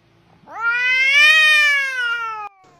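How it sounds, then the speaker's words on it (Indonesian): A cat meows once in the Sakura School Simulator game, a long, clear, rising-then-falling call lasting about two seconds, loud and close with no voices over it. "Ini kucing siapa sih? Gak jelas sekali."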